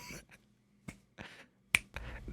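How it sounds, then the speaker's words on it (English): A few close finger snaps, sharp and dry, spaced irregularly with short silences between them and no talking. "Let me go ahead and snap my fingers"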